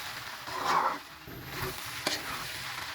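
Rice grains for khichuri fry and get stirred in a pan over low heat, making a soft, close sizzling hiss with scraping stir strokes and a small clink.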